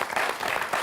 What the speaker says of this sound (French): On peut applaudir Corem,